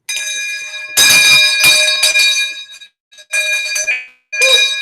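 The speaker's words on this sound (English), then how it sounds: "let's ring the bell. Ring the bell. As a send-off." A bell rung as a send-off, clear repeated bright rings with long harmonic tails, sounding in several bursts separated by brief gaps.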